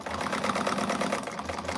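Sewing machine stitching heavy backpack fabric, a fast steady mechanical chatter of rapid needle strokes, close and continuous for the whole moment.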